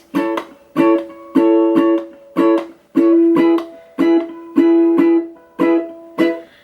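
A ukulele is strummed in a steady rhythm playing a song, each chord cut short by muted strokes that leave brief choppy gaps between the bursts.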